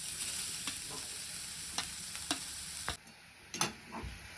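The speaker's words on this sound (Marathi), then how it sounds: "तुपावर मी पूर्ण गाजर किसलेलं हलवून घेतलेलं आहे" Grated carrot stirred in ghee in a pan, a soft continuous sizzle with occasional spoon scrapes and light knocks, quiet and close with no talking.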